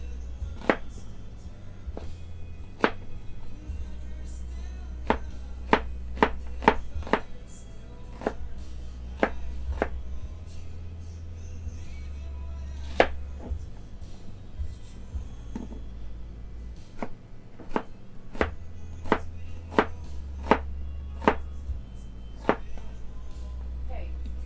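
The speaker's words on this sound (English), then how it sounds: "we're just going to slice some onions" Knife slicing onions on a cutting board: steady, crisp chops repeating in quick runs and pauses for a long stretch, close and clear, with a low background hum and occasional talk.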